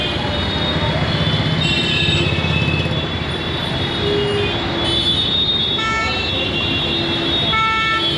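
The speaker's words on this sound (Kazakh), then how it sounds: "Қандай айуан кептеліс болып жатыр мына жақта. Қаптаған машиналар, қаптаған тук-туктар," Heavy traffic jam on a Delhi street crowded with cars, tuk-tuks and motorcycles, a dense rumbling roar with several sharp horn toots and squeals cutting through near and far.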